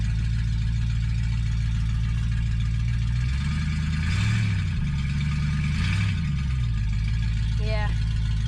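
An old Mercury car's engine runs and is revved twice, the hum rising and falling in pitch over a constant low drone, with a brief whine near the end.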